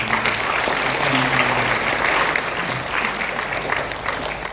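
A church congregation applauds during a Sunday service, a dense, steady burst of clapping that fills the room, with a faint voice underneath before it tapers off.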